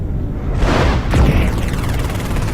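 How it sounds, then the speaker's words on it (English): A heavy large laser fires in the MechWarrior Living Legends video game, a loud booming blast with a sweeping tail over constant rumbling battle noise, without speech. "Heavy large laser fired."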